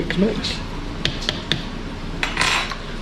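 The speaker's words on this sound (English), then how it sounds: "So we'll just give this a bit of a mix" A utensil stirs pulled pork inside a Ninja Foodi pot, making a handful of sharp metallic clinks and taps at irregular intervals, close by, with a person talking in between.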